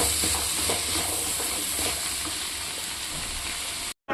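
Sprouted beans and grated coconut stirred into hot tempering, a steady loud sizzle and hiss with soft scraping of the spoon throughout, cut off by a brief silence near the end.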